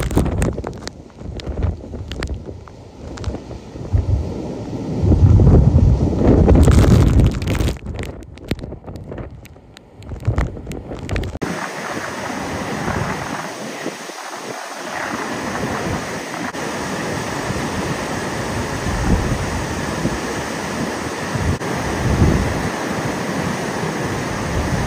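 Typhoon Haikui lashes Taiwan with strong gusting wind and crashing waves, a loud roaring rush that buffets the microphone before easing into a steady surf-like wash.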